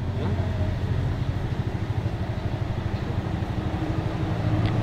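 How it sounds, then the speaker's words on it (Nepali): A motorcycle engine runs with a steady, rapid low throb while the bike rides toward Sarangkot, a continuous moderately loud drone with faint wind over it. "बाइकको इन्जिन के भयो यार"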